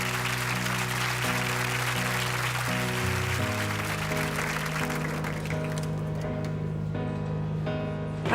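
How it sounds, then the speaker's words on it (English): Studio audience applauding at the close of a televised Question Time debate in Bedworth, Warwickshire; dense, sustained clapping fills the whole stretch, loud and steady with music tones running underneath. "Applause."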